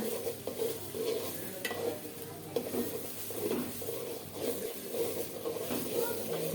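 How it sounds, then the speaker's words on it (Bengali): Washed, drained rice being stirred and fried in a pan with three green chilies, a soft continuous sizzle broken by repeated scraping strokes of a spatula and light clinks against the pan. "কিছুক্ষণ নেড়ে চেড়ে চাউলটাকে একটু ভেজে নেব কাঁচামরিচ দিলাম তিনটা"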